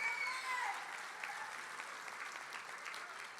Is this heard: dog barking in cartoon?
no